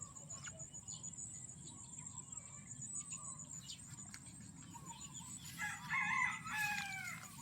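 A rooster crows loudly near a rice field with other chickens around, rising over a steady background of chirping insects and crickets; earlier there are scattered faint calls from the flock.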